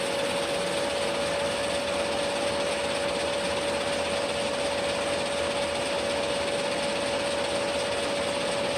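A 12.6mm stroker CP3 diesel fuel pump running at idle on a test rig, a loud steady mechanical whir with a constant pitched whine, unbroken throughout.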